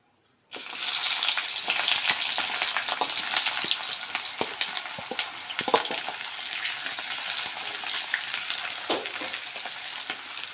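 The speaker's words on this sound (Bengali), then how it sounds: "তো পেঁয়াজগুলো একটু ভালো করে ভেজে নেব" Chopped onions fry in a pan with dried chilli, cumin, cardamom and cinnamon for a biryani, giving a loud, continuous close sizzle that begins abruptly, with scattered spatula scrapes and clicks throughout.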